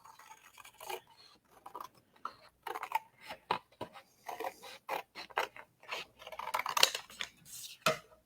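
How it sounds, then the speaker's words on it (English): Scissors snip through a paper craft piece in quick, quiet, irregular cuts, close and dry, with short pauses between bursts and no talking. "So we get to go back to the scissors. We're going to cut off our main size."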